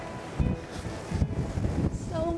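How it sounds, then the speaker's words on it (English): Steady gusty wind on Jeju Island, South Korea, roaring across the microphone, broadband and rumbling, with surges of buffeting throughout and no clear voices. "So much wind. It's very windy today."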